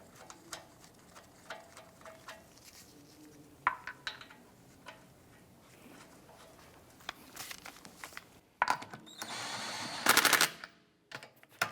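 Impact wrench snugging wheel lug nuts on a 2004-2008 Acura TL, heard as a sharp loud burst of rapid hammering near the end, preceded by quieter clicks and handling noises in a garage.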